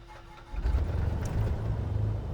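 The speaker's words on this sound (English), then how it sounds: "Really nice start sounds overall on the aircraft" Left engine of a Milviz Cessna 310R starting in Microsoft Flight Simulator: after a brief quiet moment, a low rumbling turnover catches and settles into a steady, close engine drone.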